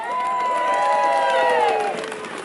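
Crowd cheering and clapping fills a township Super Bowl pep rally in Middletown, a loud, dense roar of voices and whoops held steady throughout with shouts rising above it.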